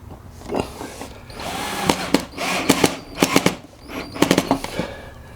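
A drill drives short screws into the side of 15mm-thick wood for a bed and drawers in a confined space, several short close bursts with rattling clicks and pauses between them.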